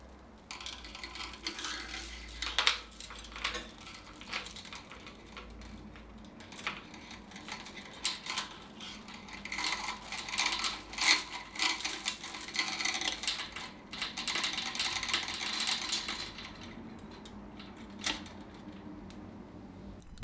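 A metal chain is hooked between the presser foot and the foot pedal of a Cobra Class 4 sewing machine. It makes scattered light metallic clinks and rattles, close by and fairly quiet.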